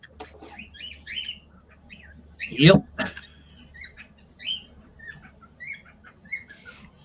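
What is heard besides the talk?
pet bird chirping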